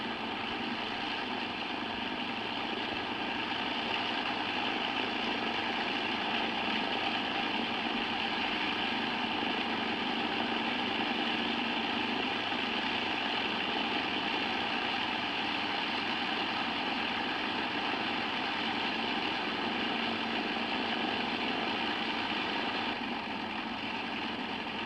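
Continuous loud engine drone from the restored Lancaster NX611 bomber running steadily on the ground, a dense unbroken roar with no talk.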